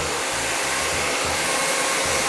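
A handheld blow dryer runs steadily at close range as hair is pulled forward and shaped around a round brush, a continuous loud airy roar with no talking.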